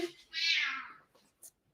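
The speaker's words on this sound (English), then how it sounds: "Sorry if you guys hear him meowing." A pet cat lets out one clear, drawn-out meow up close indoors, rising and then fading, followed by faint rustles and a short, soft chirp.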